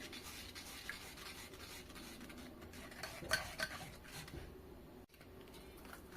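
A spoon stirring and pressing bael fruit sherbet through a strainer into a bowl, with quiet intermittent scraping and clinks over a faint hiss, close and low in level.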